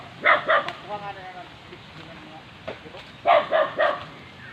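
Several sharp dog barks in two quick bursts, separated by a quieter stretch with faint voices and background noise, outdoors while picking fruit.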